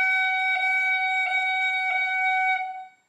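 Three quick F taps on a wind instrument, likely a tin whistle, in an Irish tune lesson: a steady bright held note broken by three crisp articulations roughly evenly spaced, then fading out, played alone.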